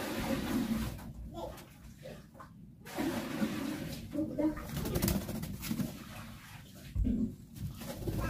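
Golden bulbuls (kutilang emas) in a large breeding cage give cooing, chirping calls through most of the stretch, moderately near, with a few louder bursts.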